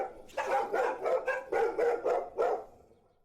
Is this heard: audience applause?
no